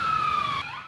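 Police siren wailing in a brief, loud, steady tone that drops slightly in pitch, heard during a street emergency in Baton Rouge.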